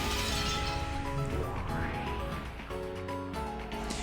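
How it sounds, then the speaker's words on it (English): A glass-shattering effect from the Umineko visual novel bursts over steady background music, with a bright crash at the start and a sweeping, ringing tail. "the whole world shattered as though it were made out of thin glass"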